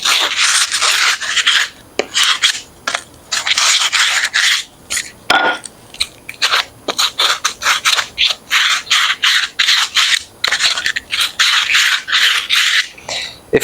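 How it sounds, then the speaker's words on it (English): Sandpaper scuffs the frayed end of a skateboarding push pole in fast, close back-and-forth rasping strokes, loud and steady with brief pauses between runs of rubbing. "Easiest way to take care of that is just using sandpaper, so I have a little piece here, and just go ahead and scuff it down."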